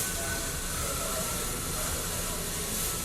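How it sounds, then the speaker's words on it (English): An Iwata Eclipse double-action airbrush sprays steadily, a continuous broadband hiss that stays even and close throughout with no pauses. "And the airbrush I'm using is an Iwata Eclipse. It's a double action airbrush."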